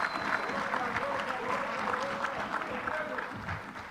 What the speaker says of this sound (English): A big hand of applause to the newly elected honourable members.